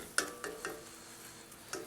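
Spinach sizzles in a pan on the stove, a steady frying hiss broken by several sharp clicks and scrapes of stirring.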